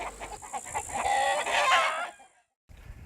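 Black Alsace hens on a farm cluck and squawk nearby in a steady, busy chorus, fading out briefly before picking up again.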